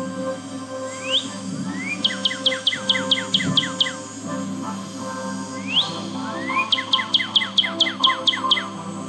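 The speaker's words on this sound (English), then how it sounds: "Northern cardinal." A Northern cardinal song plays from a birdsong tape in the game Nancy Drew: Ghost Dogs of Moon Lake: two phrases, each an upward slurred whistle followed by a fast series of clear, down-sweeping chew notes, loud and clear with no talking.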